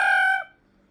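A person imitating a rooster crowing, one short, loud, bright crow held for a moment and then cut off into silence.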